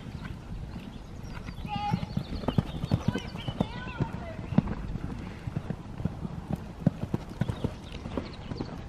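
Horse hooves clip-clop in a steady rhythm on firm ground during a bareback ride, with a brief whinny and people talking nearby.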